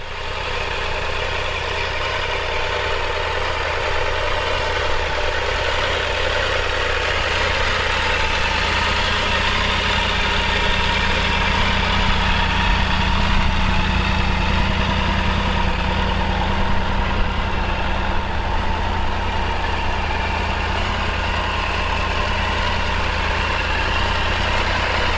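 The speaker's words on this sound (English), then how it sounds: "Maybe because the engine's run in, it sounds different." Triumph Tiger 900 Rally Pro motorcycle idling steadily up close, a continuous even engine drone with no talk over it.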